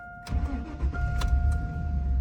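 A GMC Sierra pickup with a Duramax diesel engine cranks and catches quickly, then settles into a close, steady, rumbling idle.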